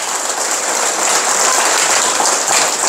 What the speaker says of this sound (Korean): 우리 박수 칠 때 당황하지 않게 같이 쳐버리면 좋습니다.